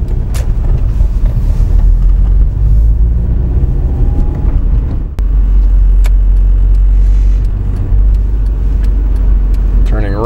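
A car drives through a traffic-light intersection, its steady engine rumble and road noise filling the clip from inside the cabin.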